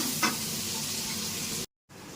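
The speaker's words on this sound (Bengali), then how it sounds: "টমেটো দিয়ে আর একটু কষিয়ে নেব" Spice masala with tomato sizzling and frying in a pan, a steady close crackle with one brief stir near the start and a short silent gap near the end.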